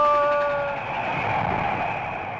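A train runs along railroad tracks, opening with sustained whistle tones that give way to a steady rolling rumble as it passes close by.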